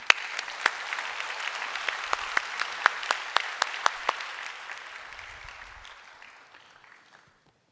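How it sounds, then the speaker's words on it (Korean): A church congregation applauds during a Sunday worship service as a woman comes forward to give her testimony, with steady clapping and sharp individual claps standing out before the applause gradually fades away. "나오실 때 우리 박수로 격려해 주시면 좋겠습니다."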